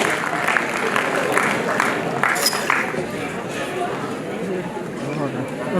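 Applause from the audience at a CA youth festival event, a sustained broad patter of many hands running the whole time beneath an announcer's voice speaking over it.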